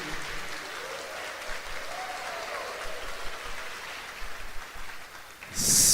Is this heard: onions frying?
no